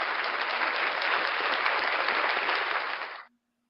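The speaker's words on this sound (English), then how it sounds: "Round of applause for the gorgeous Rae Rae, ladies and gentlemen." A crowd applauds a co-host on a talk show, a dense burst of clapping holding steady for about three seconds before cutting off sharply into near silence.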